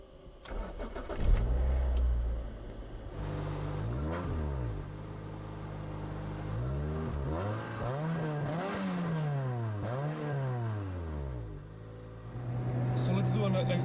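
A 2003 Toyota Corolla T Sport engine starts and pulls away, with a mid-pitched motor rising and falling through several revs and gear changes, heard from inside the cabin at a steady, moderate level.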